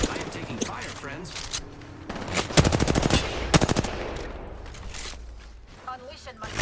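Rapid automatic gunfire bursts rattle through a PC shooter game lobby, loudest in a dense stretch mid-clip, with a player talking over the shooting and other game sounds.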